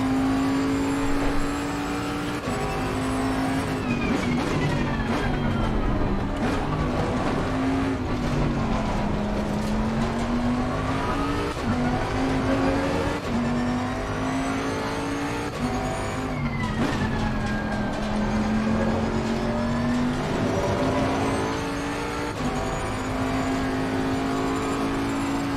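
Race car engine in a racing video game revving steadily and loudly throughout, the pitch rising and falling with gear changes and throttle, with no talk over it.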